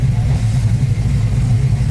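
The engine of a Ford GTHO Phase 3 tribute runs, a loud, deep rumble held steady at close range with a slight pulsing throb and no talk over it.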